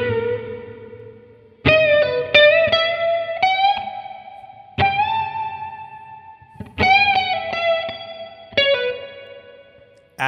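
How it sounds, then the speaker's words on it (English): Electric guitar playing lead phrases through chorus and plate reverb, bright sustained notes and bends with a lingering reverb tail filling the gaps. "Add in plate reverb."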